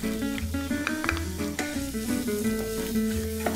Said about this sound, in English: Once the oil is nice and hot, I'm going to add the onions.